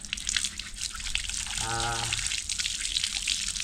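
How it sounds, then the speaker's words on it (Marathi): Water runs steadily from a village tap, a constant hiss heard throughout the clip, with a brief tonal hum rising in the middle. "असा नळ चालू करा"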